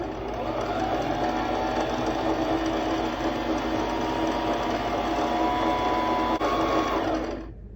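A Brother XM2701 sewing machine runs steadily under foot-pedal control, a close, continuous mechanical whir with a fast stitching rhythm that holds for about seven seconds and then stops abruptly.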